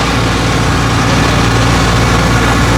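An old, repainted motorcycle engine idles at close range, a steady low throbbing rumble with continuous mechanical vibration and no change in pace.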